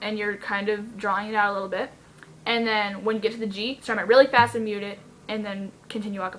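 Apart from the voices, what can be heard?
No distinct noise like a dog, phone or traffic.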